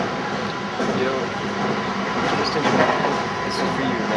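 A JR train at Nishi Otsu station in Shiga, Japan gives a continuous rumbling, whooshing roar with faint rail clatter, loud and near, with no gaps.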